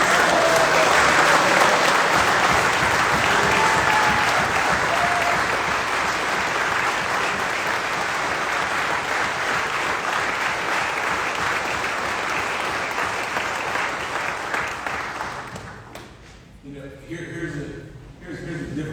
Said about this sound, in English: I want you to join me in giving a huge round of applause